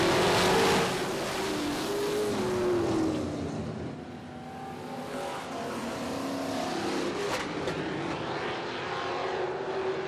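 A pack of limited late model race cars roars at full throttle on the opening night at Barrie Speedway, the engines loud and droning with pitch sweeping as the field passes and fades slightly.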